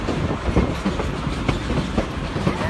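A tourist railroad train rolls along the tracks, its wheels clicking in a steady rhythm over rail joints beneath a constant rumble, heard from close by and loud throughout.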